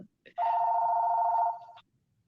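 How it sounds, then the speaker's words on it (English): A room telephone rings once in a steady electronic trill lasting over a second, loud and close, preceded by a short chirp, with no talk over it. "And that sound was brought to you by the phone in my room."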